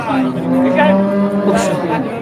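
A cow lows loudly and steadily, close by, at a cattle market in Dhamrai, Dhaka, Bangladesh, with other lowing cattle and crowd noise mixed in.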